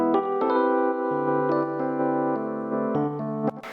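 Guitars and keyboards in a studio mix heard without a stereo widener, a sustained chordal passage with notes changing roughly every half second, steady and fairly loud, with no talking.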